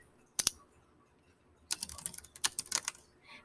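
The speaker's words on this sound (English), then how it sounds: "You don't have to watch me type." Keys being typed on a computer keyboard while writing a reading-journal entry: a single short burst of clicks, a pause, then a longer run of quick, uneven keystrokes, close and fairly faint, with no voices.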